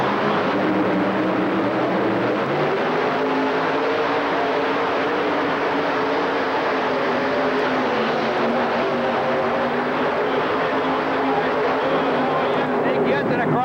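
A triple Aries-powered modified tractor-pulling machine roaring through a full pull run, its engine a loud, sustained, droning roar that stays heavy from start to finish, with an announcer's voice calling over it.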